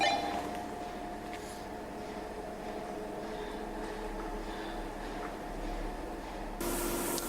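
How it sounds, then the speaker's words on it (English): A continuous broad hiss, like gas escaping, runs steadily throughout in a brewery's vat room, with faint clanks in the background and a brief louder burst at the end. "there's that sound you can hear in the background is I think gas escaping"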